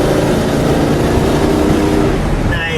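A 1978 Ford Mustang II King Cobra with a 302 engine drives on an open road, its engine giving a loud, steady, throaty drone throughout without a clear rise in pitch.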